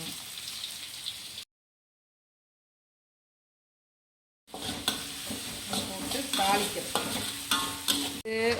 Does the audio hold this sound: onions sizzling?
yes